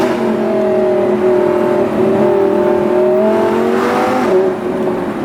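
An Audi R8 V10 plus engine revs loud and close from inside the car, its tone climbing and settling in smooth sweeps. The drone is continuous for the whole stretch.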